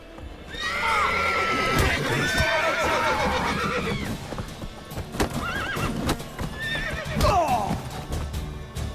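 Horses in The Witcher 3 whinny and neigh loudly over a steady clatter of hooves, with several shrill calls rising through the busy, continuous commotion.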